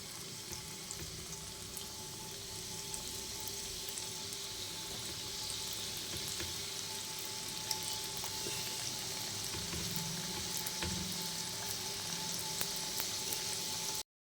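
Goja sweets deep-frying in oil in a wok over a low gas flame while being turned, a gentle continuous sizzle and bubbling with occasional faint scrapes, quiet and unbroken for about fourteen seconds.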